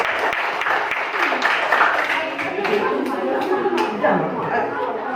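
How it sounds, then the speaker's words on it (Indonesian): A classroom audience of students claps for a group coming to the front, a steady patter of many hands at moderate distance, mixed with chatter and a teacher talking over it. "Silakan kita kasih tepuk tangan dulu untuk kelompok 2 maju"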